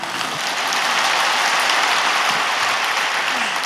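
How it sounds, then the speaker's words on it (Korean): A church congregation at a Yoido Full Gospel Church sermon claps in dense, sustained applause that fills the room at even loudness. "여러분들은 지금 박수를 치지만"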